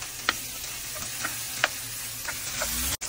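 Tomatoes and onion sizzle steadily in a pan while a utensil stirs them, with a few soft scraping strokes and clicks rising above the constant frying hiss.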